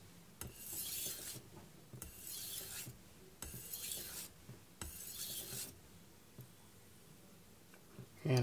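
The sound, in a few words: knife sharpening strokes on a whetstone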